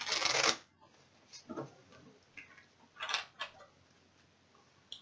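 A deck of Obsession board-game cards being shuffled by hand in short riffling bursts, one strong riffle and then several softer ones, close and quiet.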